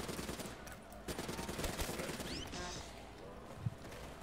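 Bursts of rapid gunfire from a weapon in Black Ops 3 Zombies mix with other in-game effects, a fairly dense clatter of shots at moderate level.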